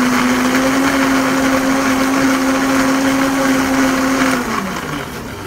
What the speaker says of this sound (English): So put in my blender, start it on low because it's a Vitamix,